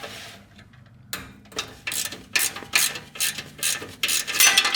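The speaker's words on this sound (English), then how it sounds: "Now we can loosen up these 2 bolts right here and then take off the front ones" A wrench loosening manifold bolts on an engine during an oil pan gasket job, a run of sharp ratcheting clicks in quick bursts up close, growing louder, no talking.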